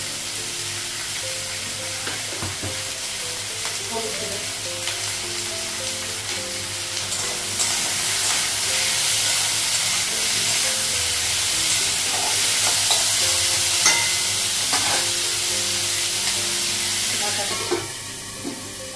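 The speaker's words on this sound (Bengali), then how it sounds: "আলুটা পেঁয়াজটা একসঙ্গে ভেজে রেখে তারপর ডিমটা লাগাবো" Potatoes and onions frying together in a pan make a continuous close sizzle with scraping stirs, swelling louder midway before easing off near the end; no one speaks.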